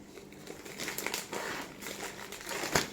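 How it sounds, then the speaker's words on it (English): A plastic resealable bag is handled and pulled open while keto chicken wraps are assembled: a steady run of crinkling and rustling, fairly close, with a sharper crackle near the end. "It's actually a resealable bag."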